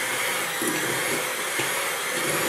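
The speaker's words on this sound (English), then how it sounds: "And we're going to take our mixer. We're going to mix this up a little bit." Electric hand mixer whirring steadily and fairly loud as it beats room-temperature cream cheese and butter, a continuous buzzing drone with slight wobbles and no talk.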